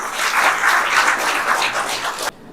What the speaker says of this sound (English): Everyone please join us in welcoming sir with a big round of applause